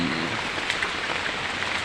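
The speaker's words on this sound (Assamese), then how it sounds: "আজি এসপ্তাহ একেৰাহে বৰষুণ দি আছে।" Steady, dense rain falls during a week of continuous monsoon downpour, a constant close hiss of drops on surfaces with no voices.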